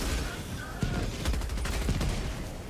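MG43 machine gun firing in Helldivers 2, heard as sustained rapid gunfire with sharp repeated bursts over a dense roar of battle noise at a steady, loud level.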